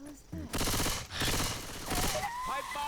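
Rapid bursts of automatic gunfire from an Uzi in the zombie shooter Left 4 Dead 2, dense and continuous, with a brief voice near the end.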